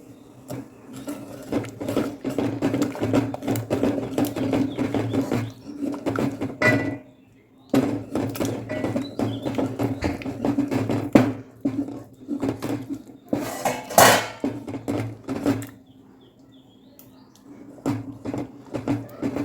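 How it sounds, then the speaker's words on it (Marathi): Rice flour dough being stirred with a rolling pin into boiling water in a pot, giving steady scraping and knocking against the vessel with brief pauses, close and moderately loud, with no talking. "आपण मळलेलं पीठ थोडंसं थोडंसं चम्मचने टाकून घ्यायचं आहे आणि लाटण्यानं मिक्स करत राहायचं आहे"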